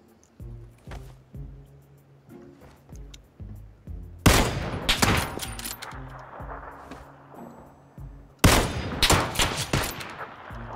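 PUBG gunfire rings out in loud bursts: a rapid volley of sharp shots around the midpoint and another strong burst near the end, each trailing off in echo over quieter in-game sounds.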